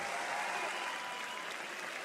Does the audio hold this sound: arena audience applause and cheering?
yes